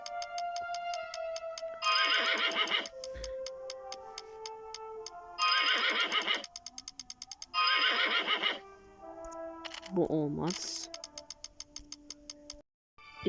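A horse in a horse racing video game lets out a long, shrill whinny near the end, amid looping game music and steady ticking, close and clear.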